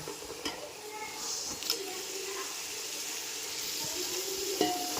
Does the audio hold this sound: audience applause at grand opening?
no